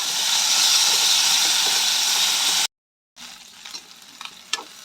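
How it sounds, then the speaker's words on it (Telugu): Dried prawns frying in hot oil in a pan with green chillies, a loud dense sizzle and hiss that cuts out briefly, then returns quieter with light stirring scrapes. "ఎండు రొయ్యలు కూడా కొద్దిగా కలర్ అయితే చేంజ్ అయ్యేంత వరకు ఫ్రై చేసేసుకున్న తర్వాత"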